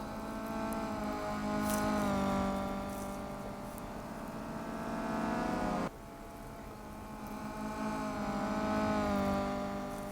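A Renault Clio races in the mobile game Real Racing 3, played on an iPad. Its engine note drones steadily with rising and falling revs, and a brief dip comes midway, with no voices over it.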